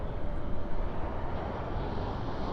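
A heavy airliner arrives on runway 18R at DFW airport at night, a broad, distant engine roar rumbling steadily throughout with no talk.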